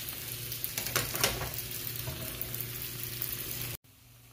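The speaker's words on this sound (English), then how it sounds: "So let that fry up a little bit." Bacon and onions fry together in a pan for baked beans, giving a steady close sizzle with a few brief stirring scrapes before the sound cuts off abruptly near the end.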